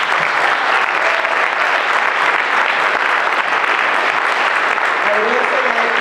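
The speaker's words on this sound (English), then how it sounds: "Give them a round of applause." An audience at a youth candidate night in a school setting applauds the youth panel, loud, dense and continuous clapping that fills the room without letup.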